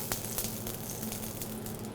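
Bone marrow sizzles gently in brown butter on a plancha, a soft steady crackling hiss at low level with a faint hum beneath, no speech.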